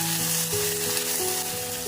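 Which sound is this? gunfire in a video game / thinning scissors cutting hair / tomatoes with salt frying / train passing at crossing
tomatoes with salt frying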